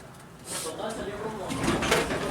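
An old gated elevator in the Whittell Building slowing and stopping at a floor, with a soft mechanical shift, a brief clunk and a rattle of the gate, under a person talking.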